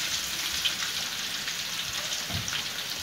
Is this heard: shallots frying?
yes